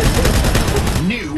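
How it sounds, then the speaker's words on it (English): Rapid bursts of gunfire from a Halo 2 custom game battle crackle in fast, repeated volleys, with a voice breaking in near the end. "Stop shooting me."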